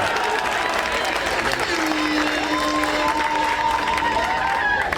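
An audience at a customary ceremony breaks into sustained clapping, a steady, close wash of applause that runs the whole five seconds, with a voice and tonal sounds drifting faintly underneath.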